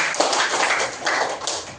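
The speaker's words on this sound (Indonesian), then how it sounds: "tepuk tangan untuk kita semua" Students in a classroom clap their hands together, a steady, dense patter of close claps lasting a couple of seconds with no talking over it.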